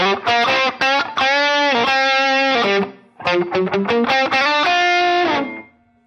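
An electric guitar driven through a Minotaur overdrive pedal into a Dumble amp plays sustained distorted chords and riffs, loud and alone, with a brief pause midway before ringing out again.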